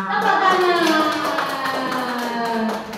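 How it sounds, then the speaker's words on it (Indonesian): A group, apparently children, claps hands together in a quick, rhythmic burst while young voices chant or sing loudly over the clapping. "Tepuk tangan."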